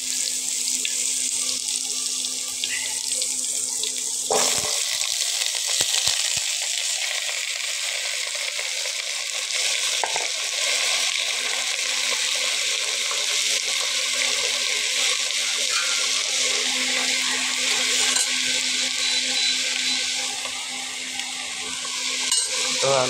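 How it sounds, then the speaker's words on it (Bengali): Potatoes drop into hot oil in a pan while vegetable khichuri is cooked, setting off a loud continuous sizzle and hiss with occasional stirring clatter, and a voice speaks faintly beneath it. "আমি আলুটা দিয়ে দিচ্ছি।"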